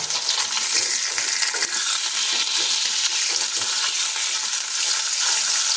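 Fish pieces fry in a pan with a loud, continuous close-up sizzle, broken by frequent scraping and stirring knocks.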